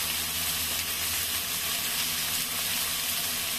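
Tomatoes, green chilies and curry leaves fry in a pan for a potato and tomato curry, giving a steady, dense hiss and crackle up close with no talk over it.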